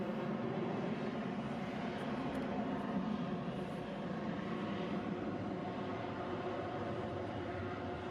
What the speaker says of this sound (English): another perfect takeoff too